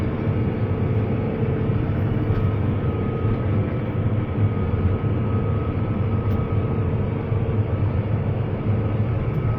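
A forage harvester chopping corn roars steadily and loudly nearby, a constant dense mechanical drone with no pauses.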